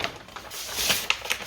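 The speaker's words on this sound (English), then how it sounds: "Unwrap it here." Gift wrapping paper is torn and crinkled off a present at a Secret Santa exchange, in a few sharp rips and rustles that build from quiet handling to louder tearing bursts.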